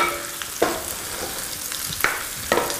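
Arugula leaves wilt in a hot pan, giving a soft steady sizzle broken by several sharp stirring scrapes and bursts at intervals, near and alone with no voices.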